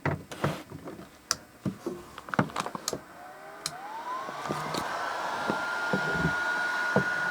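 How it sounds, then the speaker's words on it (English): Several sharp handling clicks and knocks come first, then an electric heat gun starts up with a steady, airy blowing roar that grows gradually louder and continues to the end. "I have here a heat gun."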